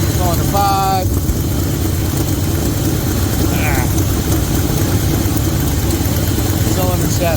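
A 1972 Chevy C20 engine idles loudly and steadily with a misfire, a continuous low rumble, with a few brief high electronic chirps over it.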